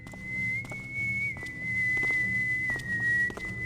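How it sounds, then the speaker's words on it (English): A sustained, piercing whistle in the video game Thief: The Dark Project holds one high pitch for several seconds, loud and close, with soft clicks and thumps underneath. "Stop whistling! It's so loud!"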